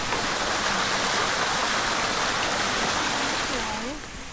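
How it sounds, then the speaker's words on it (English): A river in Japan rushes in a loud, steady wash of broadband water noise, continuous and close, easing slightly at the end. "Beautiful river. All the way down here."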